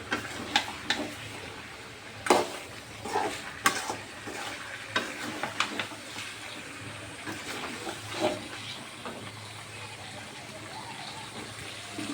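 Boal fish sautéing in a pan for a long time, a quiet crackling sizzle with intermittent scraping stir strokes and occasional sharp clinks of the utensil.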